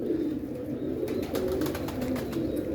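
Domestic breeding pigeons coo in a loft, a continuous low burbling close by with no talk over it.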